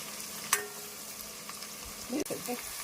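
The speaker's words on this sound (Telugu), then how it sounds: "ఇలా కొద్దిగా మనకి ఫ్రై అయితే చేపల కూర బాగుంటుంది." Fish heads frying in a pan for a fish curry, a soft steady sizzle with a sharp clink near the start and a few stirring scrapes toward the end, fairly quiet and close.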